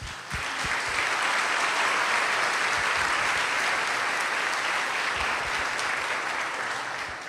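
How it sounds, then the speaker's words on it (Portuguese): A crowd applauds in honour of mothers during a talk, a full, sustained wash of clapping that swells in within the first second and holds steady, fairly loud and close, with no speech over it. "Uma salva de palmas para as mães."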